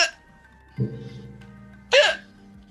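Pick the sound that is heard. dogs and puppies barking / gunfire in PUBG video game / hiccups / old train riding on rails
hiccups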